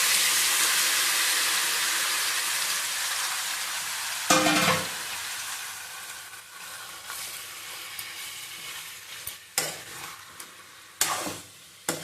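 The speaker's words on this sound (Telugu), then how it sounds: "ఇదే ఆయిల్లో ఈ మ్యారినేట్ చేసిన చికెన్ని వేసేసుకోవాలి." Marinated chicken for chicken curry hits hot oil in a pan, giving a loud, close hiss that slowly fades, broken by a few bursts of sizzling and stirring scrapes.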